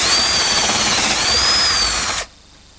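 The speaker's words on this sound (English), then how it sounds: "First thing I need to do is drill a hole in the back of the cabinet" A power drill whines steadily at high speed for about two seconds, boring through the back of a wooden cabinet, then stops abruptly, leaving near silence.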